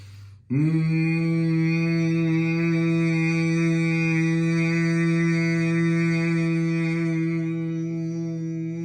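Sustained nasal humming exhale of Bhramari bee breath in a yoga class, one steady rich buzzing tone with strong harmonics lasting about eight seconds after a short inhale, close and loud.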